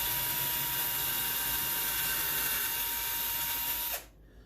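A power drill bores a hole for a cup hook into a wooden sign, a steady, loud whir running continuously for about four seconds before cutting off abruptly, leaving near silence.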